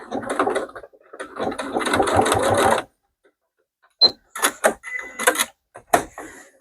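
A sewing machine runs a back stitch in rapid mechanical bursts, first a longer steady run, then a pause, then several short clattering spurts close by.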